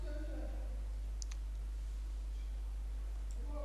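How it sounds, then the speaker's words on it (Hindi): A computer mouse gives a couple of faint, quick clicks in the middle, set against a low steady electrical hum, with soft voice traces at the edges. "अब मैं माउस को दबाकर क्लिक करके और दबा के रख दूंगा।"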